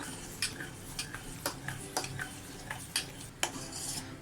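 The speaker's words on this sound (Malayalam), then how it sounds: "നന്നായിട്ട് ഇതങ്ങ് ഇളക്കി കൊടുക്കുക." Homemade dishwash liquid with vinegar and salt being stirred in a pot over a low flame, a spoon clinking and scraping against the metal in a steady rhythm about twice a second, close and moderately loud with no talking.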